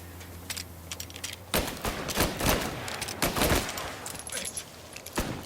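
Gunfire in the video game Mafia Definitive Edition during the "Molotov Party" mission, coming as loud, close volleys of rapid shots in clustered bursts after a quiet opening, with brief pauses between them.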